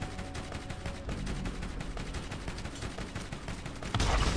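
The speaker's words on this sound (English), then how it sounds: "Who the hell is shooting me?" Rapid gunfire in the Borderlands video game, a steady stream of fast, close shots like a machine gun, ending in a louder burst.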